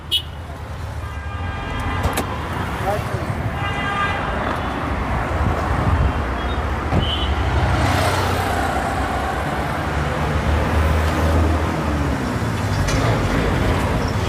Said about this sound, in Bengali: এই দেখেন ইঞ্জিনটা একবারে মাখন